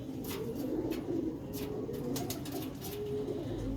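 Many pigeons in a loft coo together in a continuous low murmur, with scattered clicks and rustles of wings and feet over the steady chorus.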